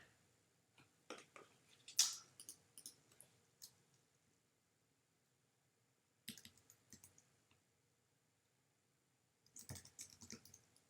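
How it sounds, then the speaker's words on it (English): Computer keyboard typing in short scattered bursts of clicks with long quiet gaps between, close and fairly faint, with no talk over it. "I'm typing it up right here."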